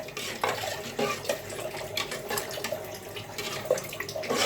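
A spoon scrapes and stirs through rice simmering in 500 grams of milk in a pot for firni, giving soft, steady clinks and swishes close by with no talking.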